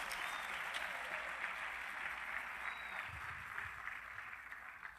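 A church congregation applauds steadily throughout, a dense, sustained wash of clapping from many hands filling the room with no voices standing out.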